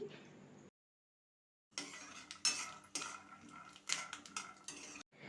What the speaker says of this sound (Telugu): ఇప్పుడు స్టవ్ని మీడియం టు లో ఫ్లేమ్కి అడ్జస్ట్ చేసుకుంటూ పల్లీలు నెమ్మదిగా కలుపుకుంటూ వేయించుకోవాలి